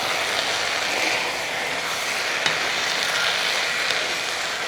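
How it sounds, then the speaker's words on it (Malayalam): Kerala aviyal vegetables are stirred in a covered pan after steaming, giving a steady, even hiss and sizzle with a few soft scrapes, close by and without talk. "ഇനി തുറന്ന് നോക്കുക ആ നമുക്കൊന്ന് ഇളക്കി കൊടുക്കാം"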